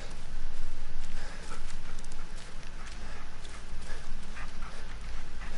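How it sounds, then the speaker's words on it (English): A dog moving close by in dark outdoor woods near a path, its steps and rustling forming a dense, steady texture of crunching and scuffling throughout. "At least I can hear the dog next to me."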